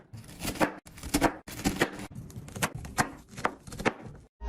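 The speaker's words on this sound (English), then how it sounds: "Second, cut celery like this." A knife chops celery on a cutting board in quick, crisp strokes, about a dozen close, sharp cuts in an irregular rhythm with brief pauses between them.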